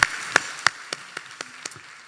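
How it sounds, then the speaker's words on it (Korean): A church congregation at a Korean Sunday worship service claps in praise after a hymn: a handful of sharp, separate claps at an uneven pace, the first few loud and the rest growing fainter. "우리 하나님께 영광의 박수 올려드리겠습니다"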